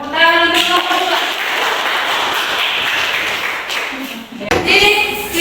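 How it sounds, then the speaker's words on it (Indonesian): A classroom of students applauding a presenting group, a dense burst of clapping that fades near the end, with a voice talking briefly before and after the applause. "Tepuk tangan untuk kelompok 2."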